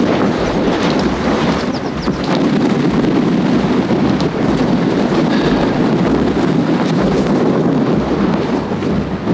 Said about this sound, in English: Look at this wind. It's got to be 30 miles an hour.